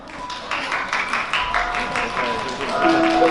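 Wedding guests clapping steadily in a banquet hall, a dense, fairly loud patter lasting a few seconds while a voice talks over it.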